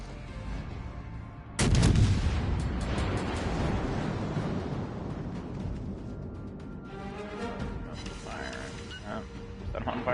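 A warship in the naval battle game World of Warships fires high-explosive shells with one sudden heavy boom that rumbles and decays over several seconds beneath continuing game noise, with a voice talking over it.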